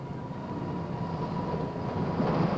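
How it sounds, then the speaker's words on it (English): A modern passenger train travels from Whittier to Anchorage, Alaska, heard as a soft, steady rolling rumble from onboard with a faint sustained tone, low in level and gradually swelling slightly. "A modern train takes you from Whittier to Anchorage."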